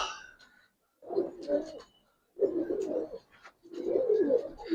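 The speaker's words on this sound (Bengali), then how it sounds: "এটা আনকমন কবুতর এই কালার কিন্তু এখন দেখি না ওরকম" Pigeons coo in three rounded bursts separated by short pauses, soft and close, with faint higher chirps above; no talking.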